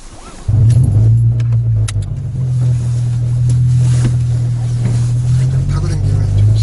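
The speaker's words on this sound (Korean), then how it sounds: "이런 배기음이 사실 차 좋아하는 사람들한테는 사운드죠" Honda Integra with a manual gearbox, driving, putting out a loud, steady low-pitched exhaust drone that holds from start to finish, with speech-like sound faintly mixed in.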